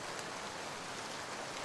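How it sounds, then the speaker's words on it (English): Light rain falls steadily with no pauses, a soft even hiss of fine drops spread wide and close. No voices cut through the patter. "So it's kind of like a light rain"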